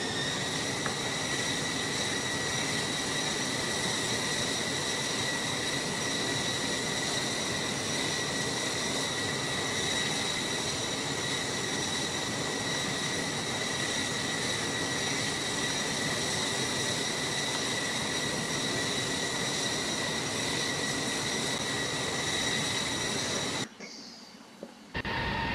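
F-4 Phantom jet in a pilot training flight sim, climbing out after a touch and go on grass: a steady, loud engine roar with high whining tones runs for over twenty seconds, then cuts off abruptly near the end.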